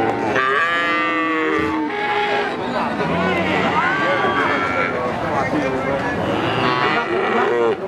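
Calves and cattle mooing at a village cattle market in Pati, Indonesia, with many overlapping loud moos and bellows, some near and some farther off, over busy crowd chatter.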